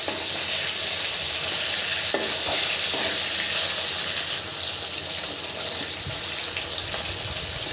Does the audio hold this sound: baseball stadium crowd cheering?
no